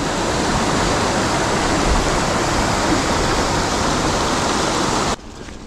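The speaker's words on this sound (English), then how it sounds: "the rivers are certainly flowing pretty high at the moment. There's a lot of water moving around." A river running high and fast with lots of water, giving a loud, steady broadband rush like a waterfall that fills the whole clip before dropping off sharply near the end.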